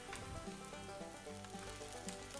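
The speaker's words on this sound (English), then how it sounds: "Allow the dosa to get crispier in the pan" Masala dosa, Mysore style, crisping in a hot pan with oil or ghee, giving a steady close sizzle and faint crackle that runs unbroken from start to finish, with no voices.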